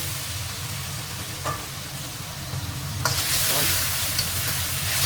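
Shiitake mushrooms in oyster-based sauce hiss in a wok, a steady close sizzle that swells louder midway as they go in, with a few stirring clicks.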